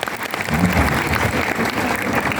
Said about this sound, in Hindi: आप लोग किस तरह तालियां बजाएंगे?